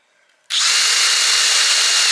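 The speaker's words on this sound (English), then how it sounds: "And so here you can see me drilling here." A power drill with a small sharp bit bores holes in a Char-Broil grill cart, starting abruptly after a brief quiet moment and then running loud and steady at close range.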